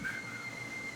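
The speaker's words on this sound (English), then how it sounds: "You're whistling." A steady, fairly faint whistle holds a sustained high tone for about a second against a low background hum, with no talking.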